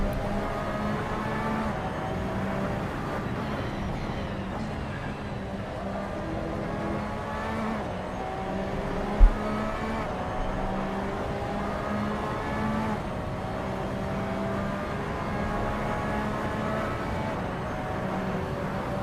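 A race car engine in the sim racing game Assetto Corsa drones steadily throughout, its pitch rising and falling through gear changes during a qualifying lap, with no talking.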